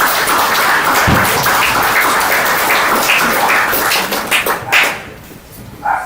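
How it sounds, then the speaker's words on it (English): Applause at an art journal launch event fills most of the clip, with a dog's short barks breaking through near the end as the clapping fades. "That's my dog."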